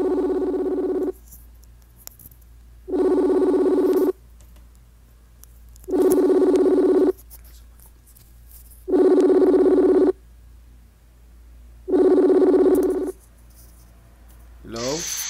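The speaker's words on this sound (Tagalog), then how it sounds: "Ayan, tawagan na natin si RM." Outgoing telephone call ringback tone, five evenly spaced long buzzing rings separated by silent gaps, loud and clear, ending as the line begins to pick up.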